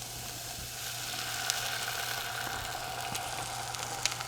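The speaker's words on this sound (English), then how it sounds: "when you cook, you want to hear that little sizzle" Steady, close sizzling of food frying in a pan, a continuous crackling hiss with occasional sharper pops, no voices.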